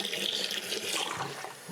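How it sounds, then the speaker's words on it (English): Water runs through a window-cleaning water filter unit during setup, a close, continuous splashing flow like an open tap, brief and steady. "we have water flowing"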